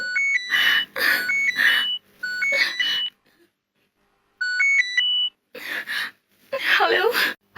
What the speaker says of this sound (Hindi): मैडम किसी का फोन आ रहा है।